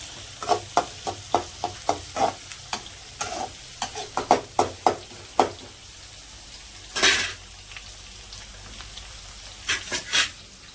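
Food sautéing in a pan, with a spoon scraping and clinking against the metal in quick repeated strokes over a low sizzle, followed by a few scattered louder scrapes and clanks, with no voices.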